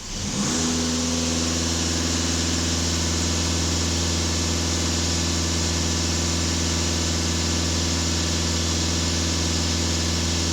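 Volkswagen Passat B8 engine idling steadily up close during diagnostics, a constant low hum with a brief rise at the start, running alone without voices.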